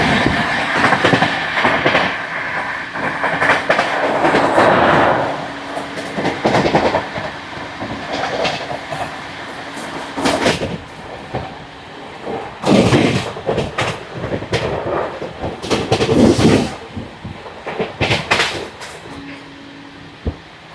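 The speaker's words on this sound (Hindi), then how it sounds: "देहरादून सुबेदारगंज एक्सप्रेस।" The Dehradun Subedarganj Express passes close by on Indian rails, a loud rumbling roar with clattering wheel bursts and rattling carriages surging and fading over twenty seconds.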